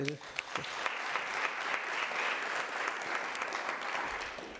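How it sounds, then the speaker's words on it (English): A room of guests at a launch event gives a sustained round of applause, dense steady clapping that holds for several seconds with faint voices underneath. "So I think you really deserve a round of applause."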